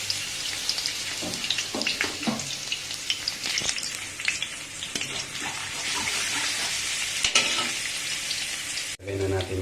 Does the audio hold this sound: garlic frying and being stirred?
yes